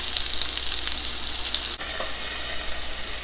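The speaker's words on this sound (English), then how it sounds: "we're going to go ahead and toast my potato buns that I got from Whole Foods" Potato buns toast on a hot griddle with a steady, close hiss and crackle of sizzling, broken by a single soft knock partway through.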